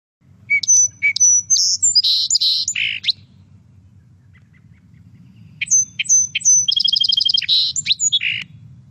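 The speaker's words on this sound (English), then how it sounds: "Okay, next we have the song sparrow." A song sparrow sings two full songs, each opening with clear separate notes and running into buzzy trills and jumbled phrases, over a faint low background hum.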